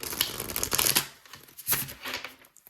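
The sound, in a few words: shuffling angel number cards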